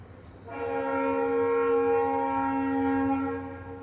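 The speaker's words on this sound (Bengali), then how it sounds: "ভয়েস ওভারের মধ্যে রেল স্টেশন থেকে রেলের আওয়াজও শোনা যায়" A train at a nearby railway station sounds a long sustained horn tone that starts suddenly, holds steady for about three seconds, then fades, heard from moderately close without talk.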